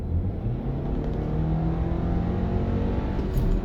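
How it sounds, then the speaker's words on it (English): A 2020 Audi Q5 accelerates hard on kickdown, with a dense, steady engine and road roar heard from inside the cabin and a slight swell in loudness near the end. "Let me see if I'm gonna kick down now."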